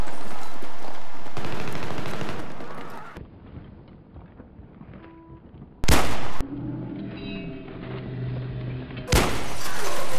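Loud bursts of rapid gunfire alternate with quieter gaps holding game sounds and tones, then sharp single blasts break in.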